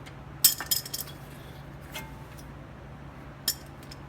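Metal brake pads being pulled from the front caliper bracket of a 2011-2015 Honda Odyssey EX-L, giving a few sharp clinks and rattles early on and one more clink later, over a low steady hum.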